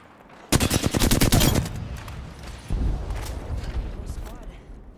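Loud rapid automatic gunfire in the video game Apex Legends, a tight burst of close shots followed by a heavier boom and a lingering rumble.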